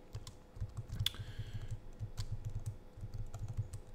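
Rapid clicking of keys on a computer keyboard while writing a Markdown document on Arch Linux, steady typing with short pauses, close and fairly quiet, no voices.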